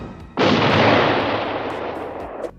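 Gunfire in the animated film The Fox and the Hound: one loud, sharp blast that rolls on into a dense, sustained rumble for about two seconds before cutting off.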